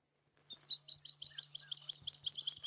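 Water thick-knee call played back from a device on an evening safari drive: a rising series of about a dozen shrill, mournful whistled notes in steady rhythm, growing louder, over a faint low engine hum.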